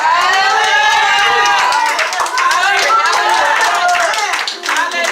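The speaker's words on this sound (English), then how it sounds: "anybody that clapped your hands this morning" A church congregation claps hands during a pastor's sermon, a dense, steady, loud patter of many hands filling the whole stretch, with cheering and voices mixed in.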